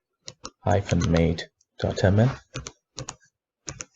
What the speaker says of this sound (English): Type in the URL for the application heya-mate.ml.